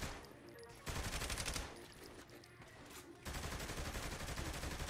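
Rapid gunfire in the video game Saints Row: The Third, dense bursts of shots in sustained volleys that pause and resume, fairly faint in the mix with no talk over them.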